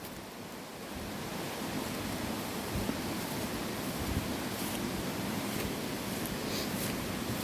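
Water rushes beside a waterfall in the Canaries area of Saint Lucia, a loud, steady broadband roar that fills the whole stretch with a few brief knocks over it.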